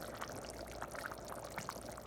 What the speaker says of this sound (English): so this is it bubbling